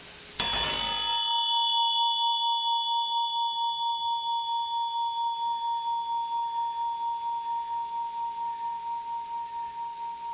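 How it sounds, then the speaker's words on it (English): A single bell is struck once and then rings on alone, a clear sustained tone that slowly fades with a gentle pulsing waver over about ten seconds. "If you listen to this bell"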